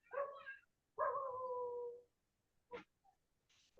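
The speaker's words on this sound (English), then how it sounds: "Dog has a question." A dog howling over a quiet background, with two drawn-out howls followed by shorter yips and whines, fairly close and moderately loud, with no speech.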